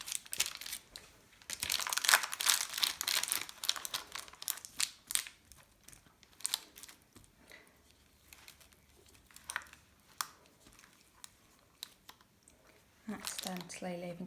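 Nutella marshmallow and white chocolate crispy mixture being patted and pressed into the corners of a tray, giving soft sticky crackling and tapping sounds in an irregular rhythm, close up, with quiet stretches between bursts.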